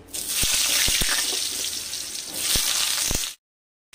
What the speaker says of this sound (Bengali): এবার ওই তেলের মধ্যে আমি আলুগুলোকে দিয়ে দিচ্ছি।